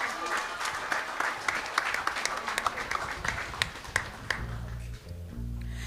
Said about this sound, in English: Let's give one more massive round of applause to the official graduates of